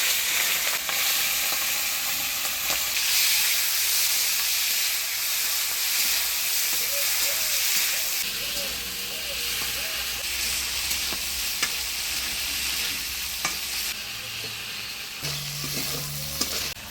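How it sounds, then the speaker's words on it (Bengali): Prawns fry in an open pan for a Bengali lentil dish, giving a loud steady sizzle and hiss throughout with occasional stirring scrapes and no voices. "চিংড়ি মাছটা ভাজে নিব।"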